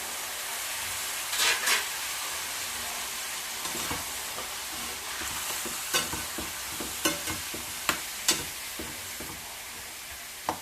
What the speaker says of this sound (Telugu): దోసకాయ వేసేసుకుందాం దోసకాయ కట్ చేసి వేసుకున్నాను ఇలా